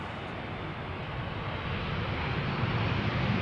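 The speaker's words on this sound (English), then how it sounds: "Finnair flight 1301, A321 arriving from Helsinki, Finland" Finnair Airbus A321 jet arriving from Helsinki at Schiphol Airport in a light crosswind, heard as a steady, loud engine roar that swells slightly toward the end, with no talk over it.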